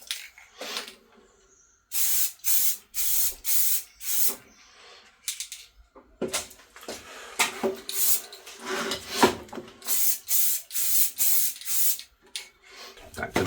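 Spray paint dusted onto car rear tail lights in a DIY tint job: a series of short, sharp aerosol hisses in quick bursts, close and fairly loud, with brief pauses between sprays.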